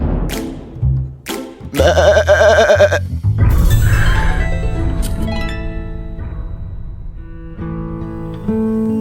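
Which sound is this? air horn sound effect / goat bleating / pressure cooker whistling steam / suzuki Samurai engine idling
goat bleating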